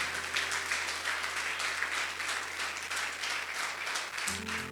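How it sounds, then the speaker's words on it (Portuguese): A church congregation applauding during a service, a dense, steady wash of many hands clapping together throughout, heard from within the hall over a low sustained musical drone. "Vamos aplaudir o Senhor bem forte,"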